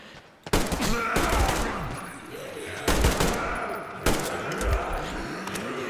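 Automatic rifle fire from the video game Metro Exodus comes in three loud, close bursts, each followed by rumbling echo and ringing debris.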